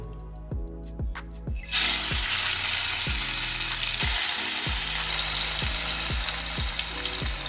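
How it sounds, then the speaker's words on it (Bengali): Three tomatoes are dropped into a hot pan and break into a loud, continuous sizzle after a second and a half of quiet ticking, with regular low clunks repeating throughout. "তিন পিস টমেটো আমি এখন একটু ফ্রাই করে নেব"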